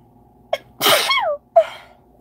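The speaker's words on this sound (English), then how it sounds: "I'm about to sneeze" A woman gives one sharp, close sneeze with a quick intake of breath before it and a short gasp or exhale after, loud and clear with no talking over it.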